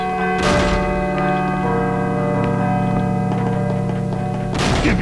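A slow, resonant bell tolls in a dark, eerie setting from Call of Cthulhu: Dark Corners of the Earth, its sustained metallic tones lingering under a low droning ambience with a few dull thumps.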